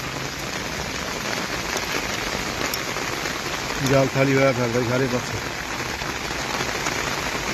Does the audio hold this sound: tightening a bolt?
no